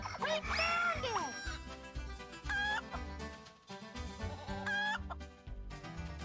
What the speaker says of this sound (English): You cannot pet the chicken in this game.